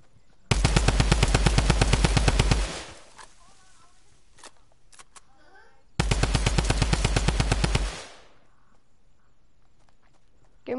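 Two long bursts of rapid automatic gunfire in a video game, loud and evenly paced, separated by a quieter stretch with faint movement sounds.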